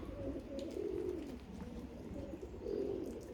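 Budapest-breed pigeons coo softly in the rain, low murmuring coos rising in two swells over a steady background hiss, with no voices.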